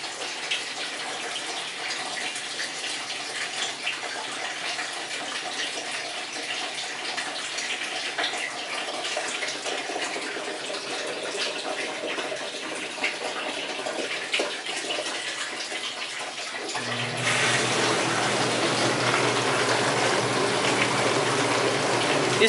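Water rushes and sprays steadily inside an Enxuta automatic dishwasher during filling and washing, a broad continuous hiss that shifts to a heavier, fuller churning near the end.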